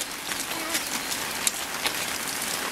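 Heavy rain pours steadily onto umbrellas outdoors in a village, a constant dense patter with occasional sharper drops standing out.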